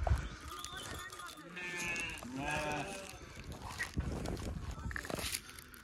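Several sheep bleat in a flock, wavering cries overlapping near and far, with people talking throughout.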